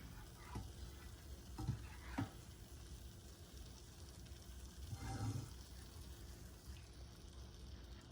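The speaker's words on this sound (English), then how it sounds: "And now we're going to add the base gravy" Base gravy for a BIR-style king prawn vindaloo sizzles quietly in a pan, with a soft steady fizz and a few louder bursts as liquid hits the hot metal or is stirred.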